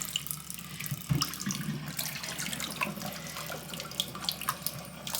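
Lukewarm tap water runs steadily into a sink while a makeup brush is rinsed, a continuous close splashing hiss with a brief louder gush near the start.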